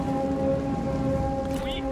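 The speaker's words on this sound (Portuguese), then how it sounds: "A chuva é um probleminha que tem no jogo." Rain falling in the strategy game Total War: Three Kingdoms, a steady broadband hiss over game music tones, with a brief brighter patter near the end and no voices.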